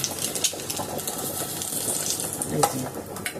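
Sliced onions fry in a pan for biryani, a steady dense sizzle crackling throughout at close range with a few sharper pops and brief bright clicks.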